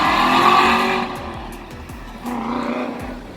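A 2019 Corvette ZR1 or Porsche GT3 RS sports car roars loudly under hard acceleration, its exhaust note climbing, easing off briefly, then rising again with a faint tire squeal.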